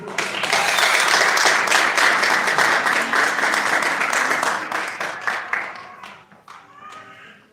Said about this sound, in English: can we have a big round of applause for Joanna Zedi?